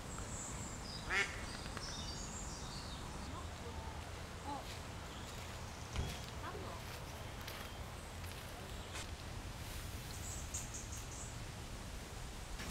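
Ducks quack faintly and sporadically in the distance on a lake over quiet autumn outdoor ambience, with occasional soft rustling.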